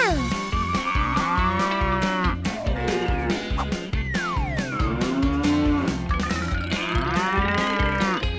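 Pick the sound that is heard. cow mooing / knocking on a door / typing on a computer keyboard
cow mooing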